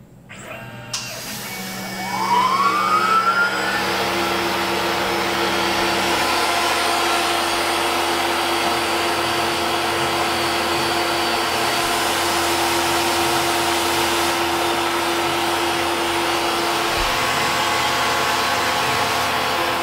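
A Tormach CNC mill runs its program while recutting a pocket: a rising spindle whine settles into a steady, loud machining drone that carries on evenly for the rest of the time, with no talking.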